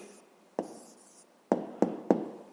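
A pen writes an answer on paper, one short stroke and then a quick run of three sharp taps and scratches, close and quiet in a still room.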